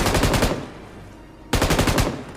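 Machine gun fire rattles in the mobile game BGMI, two loud, rapid bursts of closely spaced shots separated by a short, quieter pause.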